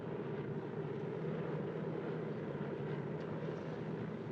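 DC-3 airplane engines drone steadily in flight, a continuous, even, muffled rumble heard faintly from inside the cabin, with no voices over it.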